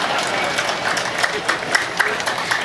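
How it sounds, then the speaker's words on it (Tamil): Audience clapping at a Tamil motivational speech by Bharathi Baskar, a steady wash of many hands with a few sharper claps standing out, loud and continuous, with no voice over it. "என்னங்க இவ்வளவு கம்மியா கைதட்டுறீங்க?"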